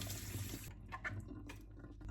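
A Hurom juicer bowl rinsed under a running tap, with a steady broadband water rush for the first moment that then gives way to softer, intermittent splashes and trickles.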